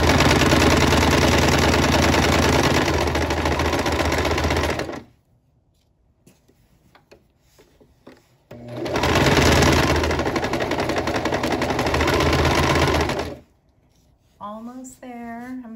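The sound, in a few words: sewing machine stitching around a dress pocket edge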